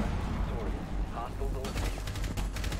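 Rapid gunfire from Rainbow Six Siege runs through the clip as a dense, steady crackle, mixed in with game effects and players talking over it.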